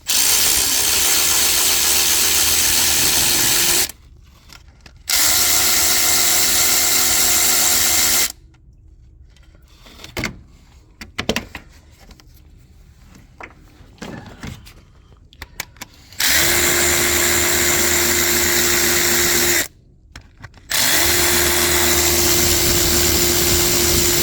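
Power tool driving a number 10 triple square socket bit to remove the oil cooler housing bolts on an Audi A4 Quattro, loud close whirring bursts that start and stop several times with quiet gaps and light clatter between them.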